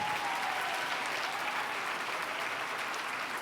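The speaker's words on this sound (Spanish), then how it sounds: "Denle un aplauso fuerte," A church congregation applauding during a sermon, a continuous, dense roll of many hands clapping at a steady level throughout, with no speech on top.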